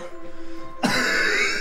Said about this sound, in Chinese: 就是假咳嗽